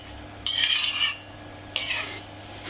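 Egg whites are folded into vanilla sponge cake batter with a utensil scraping around a bowl, in two distinct swishing strokes of about half a second each, separated by a quiet pause.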